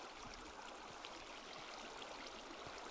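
Steady flowing water from Minecraft, a continuous broadband rush and trickle holding an even level throughout with no voices over it.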